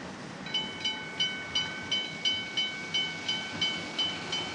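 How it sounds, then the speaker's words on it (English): A train at South Matlock railway station passes with a steady clickety-clack, about a dozen evenly spaced wheel beats over a dull rolling hiss, moderately loud and fairly close. "quick, the train's here!"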